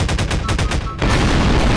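An underwater explosion in the video game Garry's Mod erupts as a loud, dense burst of rapid crackling blasts, then gives way to a sustained deep, muffled rumble that fills the rest of the moment.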